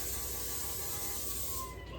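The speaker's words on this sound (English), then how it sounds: "I'm also going to spray some canola oil in my pan." Canola oil spraying from a can into a cooking pan, a continuous close hiss lasting about two seconds before cutting off.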